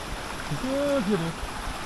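A river on the route to the Curug Luhur Ciambar waterfall rushes in a steady, continuous wash of flowing water, while a voice briefly sounds over it.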